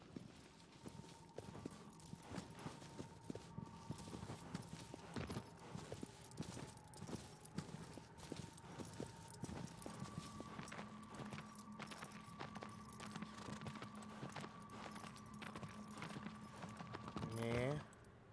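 Steady clip-clop of horse hooves in a quick rhythm in Shadow of the Colossus, with a continuous electronic tone and game sounds underneath, ending in a brief burst of louder noise.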